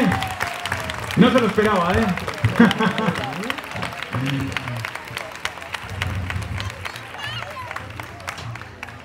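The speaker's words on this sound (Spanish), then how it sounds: "¡Un aplauso para Irene!" Applause from a school audience at a mock awards ceremony, with clapping and crowd noise under loud talk near the start, continuing more softly through the rest.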